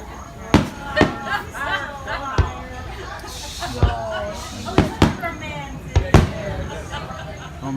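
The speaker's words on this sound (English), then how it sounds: "compared to these fireworks, they're much closer than when we see in DC" Fireworks burst at a beach in Virginia Beach, sharp cracks and booms arriving one after another at irregular intervals, fairly close, under the shouting and chatter of a crowd.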